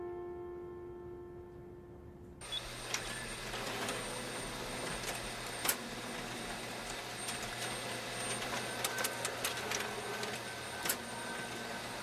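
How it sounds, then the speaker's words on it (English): A copy machine starting up and running in a Japanese horror video game, a low steady mechanical hum that rises into a continuous whirring drone with occasional clicks and clunks. "Freaking copy machine."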